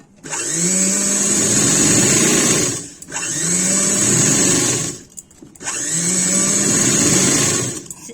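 A sewing machine stitches a blouse lining in three steady, loud whirring runs of about two to three seconds each, separated by short pauses, with no talking.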